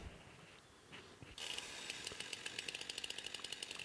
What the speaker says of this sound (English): Here I'm taking my chainsaw and I'm just splitting this.